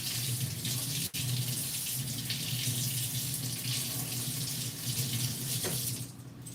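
Water runs steadily from a tap into a sink for a morning face rinse, a continuous close splashing flow that tapers off near the end, with no talking.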